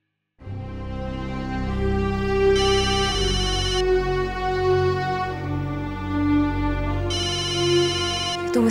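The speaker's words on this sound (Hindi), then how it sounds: "मिस्टर वर्धन के ऑफिस से फोन है" A phone ringtone plays continuously and loudly with a steady melodic tone, brightening in two bursts, with no voices present.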